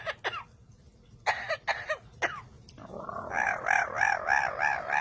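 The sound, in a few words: parrot imitating coughing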